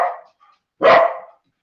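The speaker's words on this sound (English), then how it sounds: "Somebody's dogs are not happy." Dogs bark during a selectboard meeting: a short muffled bark, then one sharp, louder bark a moment later.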